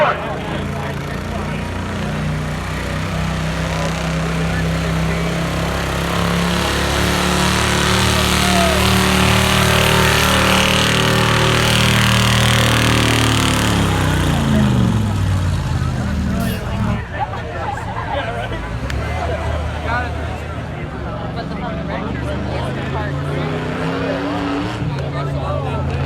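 Loud, sustained engine roar from a pickup at a Dairy Days truck and tractor pull in Platteville, Wisconsin, building steadily over about fifteen seconds and then dropping off, with crowd babble and an announcer's voice underneath throughout.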